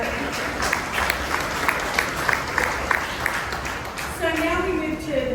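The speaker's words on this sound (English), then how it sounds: "I think we need to give Chuck a round of applause for that shirt." Clapping rises from the crowd at HP's AI PC launch in Sydney and holds as a busy patter, and near the end a voice speaks over it.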